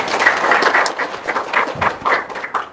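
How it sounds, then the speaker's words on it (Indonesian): An audience applauds at a talk on charity, a steady crowd of clapping hands at moderate loudness that swells and ebbs for a few seconds without speech. "Tepuk tangan dong."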